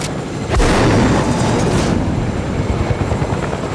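A helicopter in Fortnite survival mode gives a loud, dense rotor roar that starts with a sharp onset and then holds steady and close.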